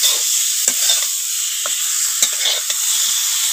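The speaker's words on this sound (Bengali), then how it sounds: "টমেটো কুচিটা দিয়ে আরও 2 মিনিটের মতো আমি নাড়াচাড়া করে নেবো।" Chopped tomato fries with pumpkin seasoned with panch phoron, a loud steady sizzle close by, broken by a few soft scraping clicks from the stirring.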